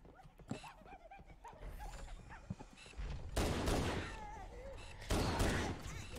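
Pistol shots in the original Halo game ring out in quick bursts with sharp broadband cracks, mixed with game effects and someone talking over the action.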